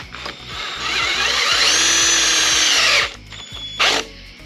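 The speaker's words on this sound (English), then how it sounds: "I'm probably going to use the impact" An impact driver runs in a burst of about three seconds while driving bolts in on a car during a rear main seal removal, then gives one short second burst, heard close and loud with no talking.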